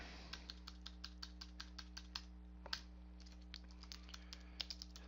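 Someone types on a computer keyboard, a quick, fairly regular run of crisp key clicks with a couple of heavier taps, close and quiet over a low steady hum.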